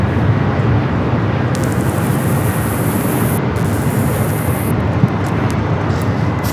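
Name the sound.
airplane to Shanghai lining up at LAX airport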